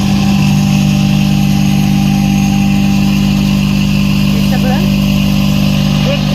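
A septic tank suction truck runs steadily while pumping out a household tank, its loud, continuous engine drone filling the whole stretch up close, with no pauses and no break in the low mechanical rumble.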